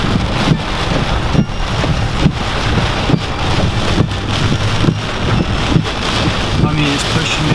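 Hurricane wind and heavy rain buffet a vehicle being driven at night. A dense, roaring wash of wind noise and pounding rain stays loud and constant, with rhythmic thumps throughout.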